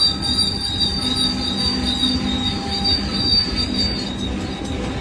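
A loud, sustained high-pitched squeal of train wheels braking on the rails, steady over a low mechanical rumble, with no talking; the train stops near a bus on the tracks.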